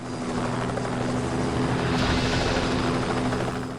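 A helicopter in the video game Just Cause 2 drones steadily with a loud, continuous rotor and engine hum, close and unbroken throughout with no talking.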